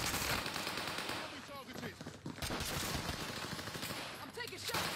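Dense rapid gunfire from automatic weapons and single shots in the Warzone battle royale game, loud and nearly continuous, with bursts overlapping throughout and brief lulls.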